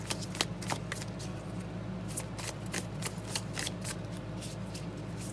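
Tarot cards being shuffled close up, a rapid run of crisp riffling flicks repeating steadily, with no voices.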